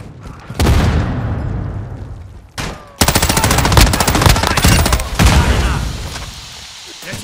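Flashbang grenade and gunfire in Call of Duty: Modern Warfare 2: a sharp bang, a short lull, another burst, then sustained loud rapid automatic fire with booming impacts before it tapers off.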